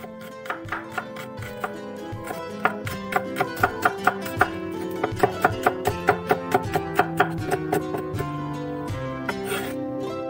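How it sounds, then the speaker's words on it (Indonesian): A knife slices shallots on a cutting board in quick, steady, evenly spaced cuts, with music playing underneath. "Kemudian iris bawang merah."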